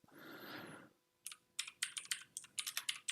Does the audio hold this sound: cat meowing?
no